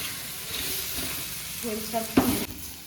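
Mutton liver and masala sizzling in a pan with intermittent stirring and scraping, a sharper clatter near the end, steady frying hiss throughout, no talking.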